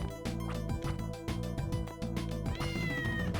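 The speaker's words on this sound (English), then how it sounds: "I can hear the cat" In the video game Castlevania: Order of Ecclesia, a cat meows with a rising, drawn-out call near the end, heard over looping game music with a steady beat.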